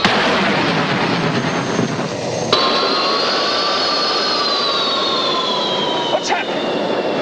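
Aircraft engine running in flight in a 1977 TV pilot: a steady loud cabin roar with a high whining tone that shifts after a sharp click, continuing to the end.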